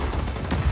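Gunfire in the Just Cause 4 video game, a short, dense burst of rapid shots and booms that fills the whole moment with no pauses.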